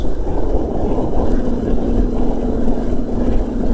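A Harley-Davidson Softail Sport Glide motorcycle cruises along the road, its engine and wind noise forming a loud, continuous rumble with no pauses.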